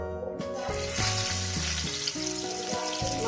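Bhetki fish pieces go into hot oil and fry with a steady, close hiss, partly buried under a melodic tonal backing that shifts pitch throughout.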